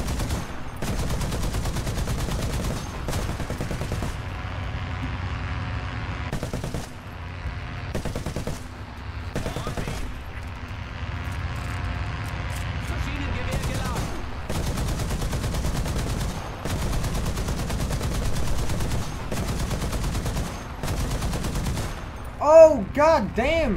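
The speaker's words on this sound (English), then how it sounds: "Shells coming out of the sky there." Tank video game battle with repeated bursts of gunfire and booming artillery shell impacts at an irregular pace, loud throughout, ending in a sharper blast with ringing echoes.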